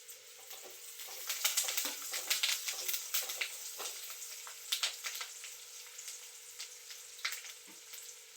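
Curry leaves crackle and sizzle in hot oil for a crab gravy, a steady bright frying hiss with dense popping bursts throughout, close and fairly loud, no voices.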